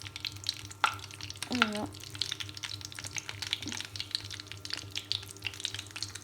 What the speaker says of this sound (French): Et voilà, mon huile a chauffé. Là, je pose mes petites briques.